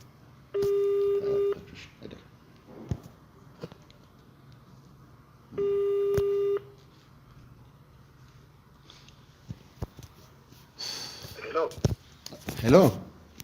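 A telephone call rings through an outgoing line, with two long, steady tonal rings about five seconds apart, then quieter handling noises and voices talking near the end.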